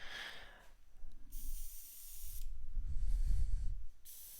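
Airbrush spraying paint through a masking template, giving two bursts of bright, even hiss with a short pause between them, plus low handling noise and a brief soft rasp near the start.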